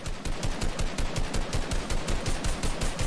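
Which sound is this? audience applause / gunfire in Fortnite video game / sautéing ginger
gunfire in Fortnite video game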